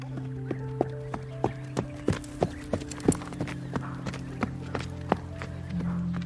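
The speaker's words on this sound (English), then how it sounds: "He is slowly galloping towards you." A white horse moving toward the listener at a slow gallop, its hooves clip-clopping in a steady, evenly spaced rhythm of distinct, moderately loud thuds over a soft, sustained musical drone.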